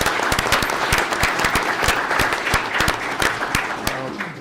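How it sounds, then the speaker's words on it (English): Audience applause at a town board meeting in Southeast, New York, honoring Boy Scouts: steady, dense clapping from a roomful of people, fairly close and even throughout, with a few sharper individual claps standing out. "so give them a round of applause"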